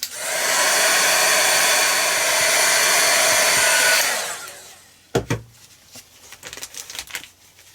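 A hair dryer blows steadily and loudly for about four seconds to dry acrylic paint on an art journal page, then cuts off, followed by soft paper rustles and taps.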